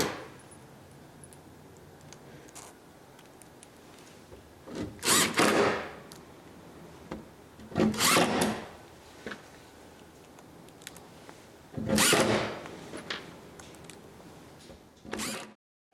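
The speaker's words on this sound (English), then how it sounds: "We're just going to go ahead and screw all these down all the way across." A square-tip bit drives screws across a Murphy bed box, heard as four short, whirring bursts spaced several seconds apart over a quiet background of faint workshop noise.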